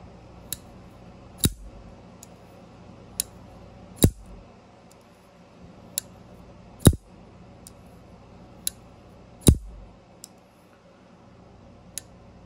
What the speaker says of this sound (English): you can kind of hear it click out of the detent and then click in when it locks up